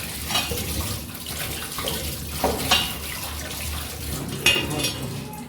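Running water splashes steadily into a sink, with a few brief clinks and scrubbing bursts over the flow.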